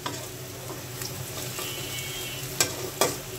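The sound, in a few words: onions frying in oil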